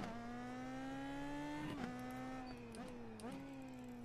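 An Indy Pro 2000 open-wheel race car in the iRacing simulator on the old Indianapolis road course layout, its engine droning steadily at high revs with a few brief lifts and gear-change dips, alone without talk.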